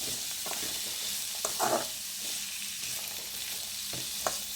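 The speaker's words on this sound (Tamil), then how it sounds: "நல்லா அந்த எண்ணெயிலே வதக்கணும்" Beans and carrots sauté in hot oil with onion in a home kitchen, giving a steady broadband sizzle with occasional soft stirring scrapes and clinks, close and continuous with no talking.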